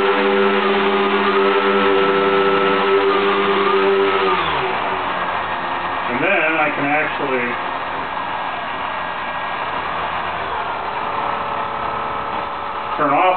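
A radio-controlled model's electric motors run on low throttle with rudder mixing, a steady whirring hum that shifts pitch as the rudder goes right and left, near and continuous under a person talking.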